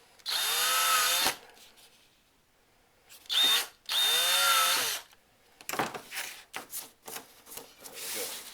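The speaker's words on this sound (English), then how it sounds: "I'm going to drill a hole all the way through into the back edge of that cap" Power drill boring holes through the back edge of a plastic cap on a guinea pig or rabbit cage, with two long whining bursts and a short one between them, then scraping and rubbing, close and fairly loud.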